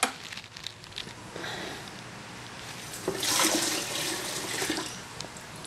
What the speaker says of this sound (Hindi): अब थोड़ा सा पानी डाल लेते हैं ताकि हमारे प्लांट्स इसमें टिक सकें।